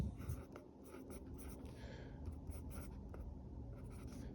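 A pen scratches across paper while an equation is written out, a quiet run of short irregular strokes and taps with pauses between them, close up and alone.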